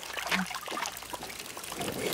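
Clean water trickles from an underground source in a dry desert setting, a continuous close splashing dribble with no voices.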